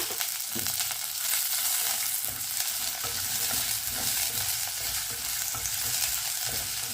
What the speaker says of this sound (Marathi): तर आपण कांदा टाकून घेऊया